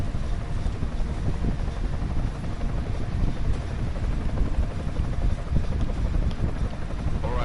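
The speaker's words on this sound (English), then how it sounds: "Enemy helo sighted." An enemy helicopter in the video game Deus Ex Mankind Divided, a continuous dense rotor whir and rumble that holds steady and fills the scene, with a windy roar beneath it.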